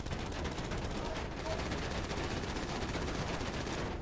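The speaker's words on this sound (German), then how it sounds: "Schieß mal auf die Reifen." Sustained, rapid gunfire from a weapon in GTA, fired at car tires. A steady, dense stream of shots runs without pause for the whole stretch at an even, moderate loudness.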